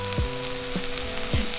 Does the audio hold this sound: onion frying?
yes